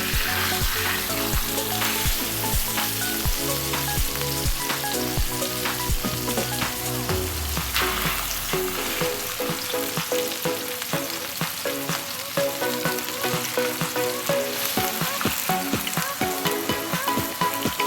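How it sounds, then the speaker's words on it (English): Veal browning in a pan, a loud continuous sizzle and crackle of frying meat that runs steadily throughout, with no talking. "So we're just browning it on both sides."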